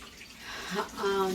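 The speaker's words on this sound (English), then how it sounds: "Let me just rinse off my hands really quick." Water runs from a tap as hands are rinsed at a sink, a close, steady splashing stream with a rising pitch as it flows, and a voice speaks alongside.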